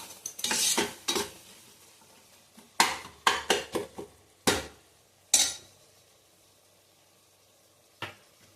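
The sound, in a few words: frying and stirring masala for jackfruit biryani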